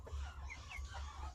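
Chicken clucking at close range, a few short soft calls over a low background rumble, no talk.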